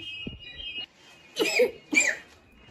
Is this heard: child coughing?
yes